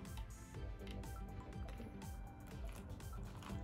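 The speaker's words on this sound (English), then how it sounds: "And I open it and pour it into the bowl." Liquid clay mask being poured from a bottle into a bowl, a soft, steady trickle with faint dripping, close by and quiet throughout the short pour.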